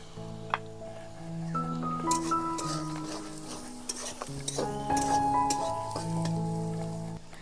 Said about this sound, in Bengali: পেঁয়াজটা ভালোভাবে ভাজার জন্য দিয়ে দেবো পরিমাণ মতো লবণ, আর দিয়ে দেবো হলুদ গুঁড়ো।